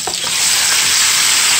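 Loud, steady frying sizzle of turkey wings in a hot pan, with a bright hiss, close up, starting with a brief clatter and holding constant throughout.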